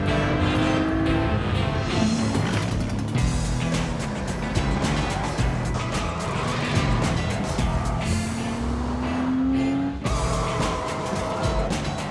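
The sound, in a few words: sports race cars, BMW and Panoz, racing at Portland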